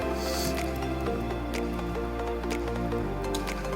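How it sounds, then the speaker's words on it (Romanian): Water trickling in Minecraft gives a steady patter of drips and soft splashes over a low constant hum, with no voices over it. "Vreau apa asta să curgă și ea mai frumos"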